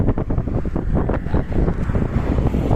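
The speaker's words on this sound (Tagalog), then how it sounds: "Sa sobrang lakas ng hangin." Strong wind buffets the microphone by the sea, a steady loud roar with gusty rumble and faint surf underneath, no talking.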